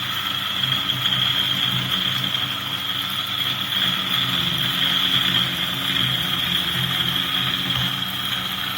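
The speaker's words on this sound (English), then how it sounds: "You're grinding coffee." Eureka Mignon Oro single-dose coffee grinder running steadily on coffee beans, a continuous whirring motor hum with a bright high whine, close and fairly loud, with no talking.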